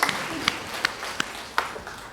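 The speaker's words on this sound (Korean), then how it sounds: "박수 하나님께 드리겠습니다." A brief burst of congregation applause during a Sunday worship service, with scattered sharp claps over a soft wash of room noise, fairly quiet and short.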